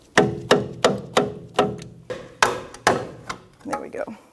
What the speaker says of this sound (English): with a rubber mallet, I'm going to hammer that bottom bolt out